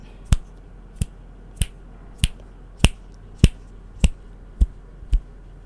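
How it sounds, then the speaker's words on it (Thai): Nine crisp finger snaps at an even pace, about one every half second, sharp and clear against a quiet background, recorded on a Fifine K690 microphone from the front during a polar pattern test. "เดี๋ยวผมจะดีดนิ้วเหมือนเดิมเนาะเริ่มจากด้านหน้าแล้วก็วนเหมือนเดิม"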